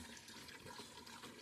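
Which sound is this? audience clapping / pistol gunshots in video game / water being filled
water being filled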